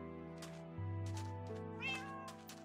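A video game cat gives a few short meows, one slightly drawn out, over steady tonal game music, with no speech.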